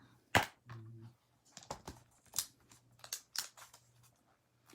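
Scissors cut paper birds for a handmade card, giving a series of crisp close snips and rustles, irregularly spaced over a faint hum.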